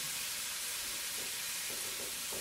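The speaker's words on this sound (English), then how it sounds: "The bacon's going to take longest to cook, so we're going to slap that baby on first." Bacon frying in a pan, a steady hiss and crackle of fat heard close and alone, with a few faint clinks.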